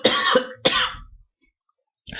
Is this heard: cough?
yes